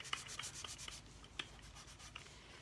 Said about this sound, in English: I'm going to do a little distressing on the handle.